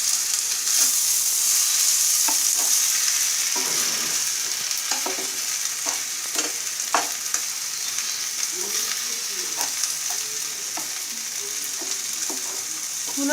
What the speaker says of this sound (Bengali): ডাল বাটাটা দেওয়ার পরে আমি এটাকে আরেকটু নাড়াচাড়া করে নেব।